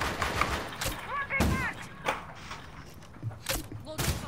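Pistol shots in a custom video game match, sharp broadband cracks at about 0.2, 1.0, 1.4, 2.1, 3.5 and 4.0 seconds, fired singly in an irregular rhythm with some quieter impacts between them.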